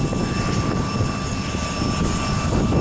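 A steady, droning engine roar holds at a constant loud level throughout, like a small propeller plane running nearby on the ground at Aurora Municipal Airport.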